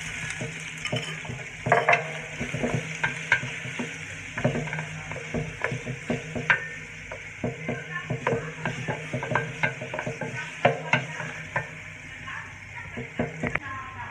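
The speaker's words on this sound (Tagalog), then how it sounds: "So, next ko pong gagawin, magigisa tayo ng bawang. Then, lalagyan na po natin yung sibuyas natin." Garlic and onion sautéing in a pan for adobong sitaw with tofu: a steady sizzle with repeated scraping and clacking of a utensil stirring close up, and faint talk at times.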